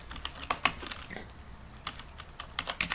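Computer keyboard typing while entering text in Urdu InPage software: irregular bursts of close, quiet key clicks with short pauses between them, no voices.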